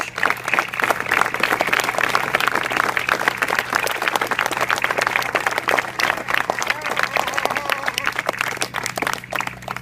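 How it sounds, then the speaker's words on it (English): Outdoor audience at a World War II reenactment claps steadily for the veterans, a dense, sustained round of applause with a low steady hum underneath. "How about giving these veterans a round of applause?"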